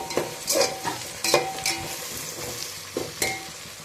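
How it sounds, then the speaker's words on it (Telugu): Tomatoes and green chillies being stirred into frying onions for a mushroom dum biryani, with a utensil scraping and clinking against the pan in several separate strokes over a steady sizzle. "ఇప్పుడు కట్ చేసి పెట్టుకున్న టమోటాస్, పచ్చిమిర్చి మనం ఈ ఆనియన్స్లో మిక్స్ చేసేసుకున్నాము."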